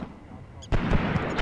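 Mortar fire in the WW2 tactics game Graviteam Tactics: Mius Front, a low rumble breaking into a loud booming blast and sustained roar of artillery, with a voice speaking over it.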